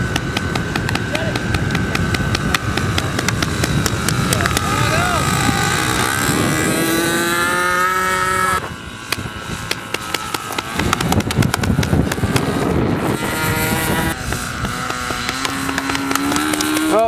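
An RC airplane's small engine buzzes continuously overhead, its whining pitch rising and falling as the plane flies against the wind, loud and near, with people talking over it.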